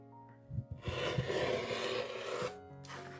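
Wool felt being cut across a marked line to form angled branches for a small Christmas tree, a rough, rasping scrape that swells and carries on steadily for a couple of seconds before stopping abruptly.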